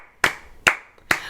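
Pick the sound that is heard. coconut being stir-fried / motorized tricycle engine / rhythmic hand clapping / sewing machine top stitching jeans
rhythmic hand clapping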